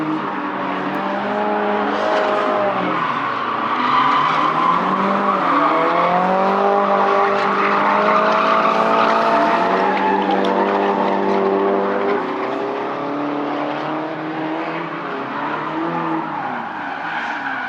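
A 1992 Lexus SC300 drift car fitted with a Corvette LS1 engine at an amateur drifting event: loud, sustained engine roar with shifting revs and continuous tire squeal and skidding, no talk.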